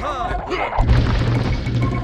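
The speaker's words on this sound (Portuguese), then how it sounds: "Vai cair a segunda trebuchê" A second trebuchet collapses in Age of Empires 2: a heavy boom of breaking wood lands partway in, then a sustained crashing rumble follows, with game noise faintly underneath.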